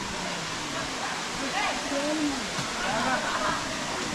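Kiliyur waterfall in Yercaud: a steady broadband rush of falling water fills the air, with voices talking over it.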